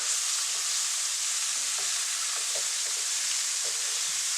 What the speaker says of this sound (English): I'm just going to give all these pieces a nice flip.